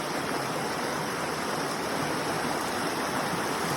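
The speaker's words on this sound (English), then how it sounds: "None of it stops the flow of water." Water in a stream flows continuously, a dense, even hiss and rush of moderate loudness with no pauses or voices.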